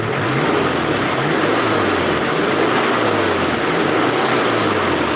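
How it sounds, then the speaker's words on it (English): An air-cooled flat-four car engine with its throttle assembly on top idles steadily nearby, a loud, even, throbbing drone. "the engine seems to run really nicely"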